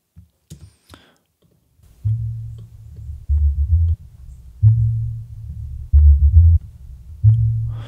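Low-passed sub bass line built from a sample, pulsing in deep sustained notes with rhythmic swells after a few soft ticks at the start, loud and alone.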